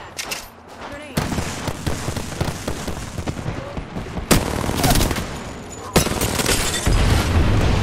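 Dense video-game gunfire in a battle royale match: rapid bursts and heavy booming shots come loud and close, building in intensity, with a voice faintly speaking underneath.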